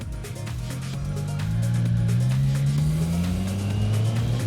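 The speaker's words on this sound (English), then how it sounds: "the sound of this bike is pretty cool" Triumph Street Triple 765 R motorcycle engine under way while riding, a steady loud exhaust drone that rises in pitch as the bike accelerates, with wind rush over it, no voices.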